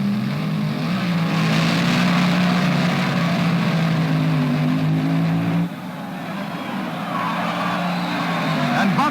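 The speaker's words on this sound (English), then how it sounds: "Bob Presido out of Detroit, Michigan, Ford Powered Rail in the near lane. Jim Bunker from Russell, Kansas, a Chrysler Powered Rail in the far lane" Top Gas dragsters at the 1967 NHRA US Nationals, a Ford-powered rail and a Chrysler-powered rail, roar loudly and steadily with a deep engine drone, dipping briefly midway before surging again.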